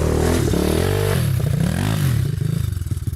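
An IZh motorcycle engine runs close by with a loud, steady throbbing idle that shifts pitch a couple of times before settling into a pulsing beat. No voices.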